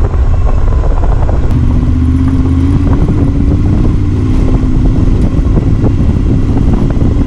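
A motorcycle rides along a road in Montenegro with a loud, steady engine drone and wind rumble close to the microphone, a brief rev rising partway through, and faint clatter throughout.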